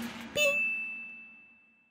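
A single bright notification bell ding rings out clearly on its own, then its clean tone slowly decays into silence.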